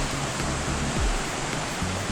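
A waterfall on a trail at Babb Run Sanctuary, heard as a steady, loud, broadband roar of rushing water that stays constant throughout, with faint low thumps beneath it.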